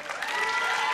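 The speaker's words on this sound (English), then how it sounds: "Simon Cowell applauding, first of all." An awards ceremony audience applauding at the National Television Awards 2007, a dense, steady burst of many hands clapping that swells briefly and holds at full strength, with no voices over it.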